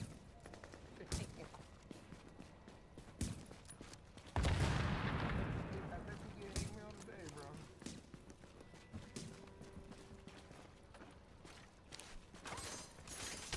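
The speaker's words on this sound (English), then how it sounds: "Dude down there shooting at me" Video game gunfire crackles in scattered bursts and single shots, with one heavy blast standing out near the middle, the shooting fairly faint and mixed with people talking throughout.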